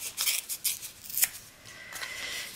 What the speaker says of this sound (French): Donc j'ai plein de chutes de craft par exemple. Donc je vais les déchirer comme ça à la main.